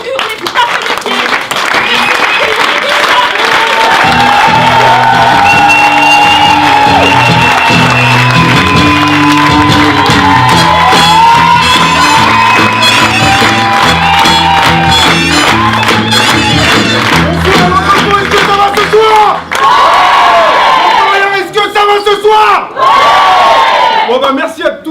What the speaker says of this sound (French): Vous les faites se rencontrer, vous hurlez, vous tapez des pieds.